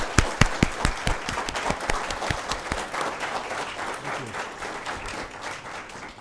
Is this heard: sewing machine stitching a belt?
no